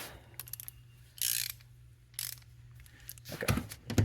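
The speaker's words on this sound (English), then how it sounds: "Get my ratchet set correctly." Ratchet wrench being set and turned on a car seat bolt, brief bursts of clicking separated by pauses, close by over a low steady hum, with metallic knocks near the end.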